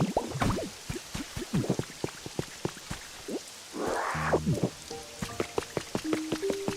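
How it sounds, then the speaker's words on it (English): Constant patter of rain in the video game Pokopia, with scattered drips and small splashes, close by, joined midway by a brief whooshing swell and a few tonal game beeps. "I wish it would stop raining."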